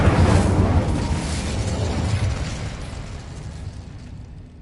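A fiery Incendio spell bursts in Hogwarts Legacy, a loud whooshing blast at the start that roars and slowly fades away over several seconds, with no talk.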